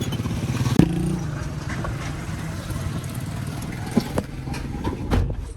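Continuous rattling and clattering from a loose bumper on a moving car, with low engine rumble and occasional sharp knocks, fairly close and steady throughout.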